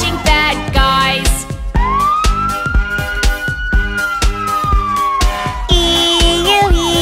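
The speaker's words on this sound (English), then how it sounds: "That's a police car, catching bad guys." A police car siren wails loudly over a bouncy children's song, rising and holding a long tone before changing pitch near the end.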